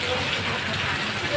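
Rain falling outdoors, a dense, even hiss of drops holding at a steady level for the whole moment.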